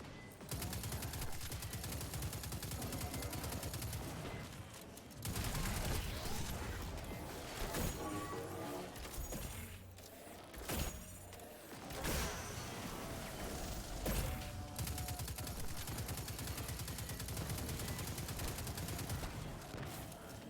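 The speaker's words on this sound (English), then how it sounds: "You stop shooting at me." Gunfire in a shooting video game: dense, rapid bursts of automatic fire run almost nonstop, broken by a few heavier impacts and brief gaps, loud and close with no voices.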